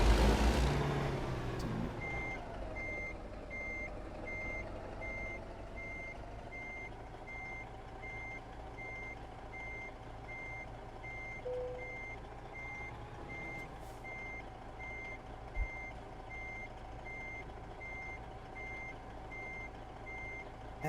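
Truck reversing beeper in American Truck Simulator, a steady evenly spaced series of beeps running throughout over a constant engine drone, clear and prominent without any talk.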